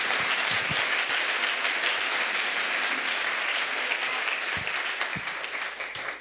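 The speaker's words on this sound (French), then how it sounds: "Let's clap to Jesus." A crusade congregation in Bafoussam breaks into sustained applause for Jesus, dense crowd clapping with scattered louder claps that slowly fades toward the end.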